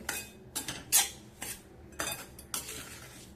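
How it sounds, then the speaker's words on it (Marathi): A spoon stirring raisins into a sweet varai rice laddu mixture in a pan, with several scraping clinks in an uneven rhythm, close and fairly quiet. "आणि हे मनुके मिक्स करून घ्यायचं"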